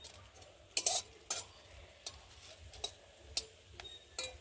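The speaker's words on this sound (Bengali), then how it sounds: "কড়াতে এখন আমি প্রথমে দেবো লঙ্কা, শুকনো লঙ্কা কটা দিয়ে ভেজে নেব" A few dry red chilies fry in a hot kadai with a faint, low sizzle, punctuated by scattered crisp clicks and taps of a spatula against the metal. No voices are heard.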